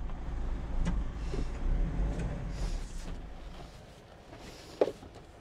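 A Mahindra Thar's engine rumbles low and close in four-wheel-drive high, with bumps, creaks and knocks as it climbs over off-road obstacles; a sharp clunk near the end.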